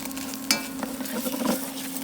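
Onions cooking down to a confit in a pan give a soft, close sizzle with a light stirring scrape partway through, quiet and without talk.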